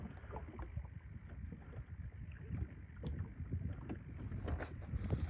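A fishing boat on open water sits quiet, with faint water splashes and knocks against the hull and gusts of wind buffeting the microphone, no voices.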